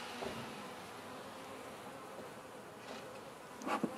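A steady, dense buzz of many honey bees in a hive holding a small, thinning swarm, close by, with a few louder passes near the end.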